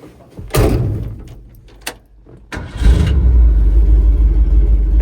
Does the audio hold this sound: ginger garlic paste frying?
no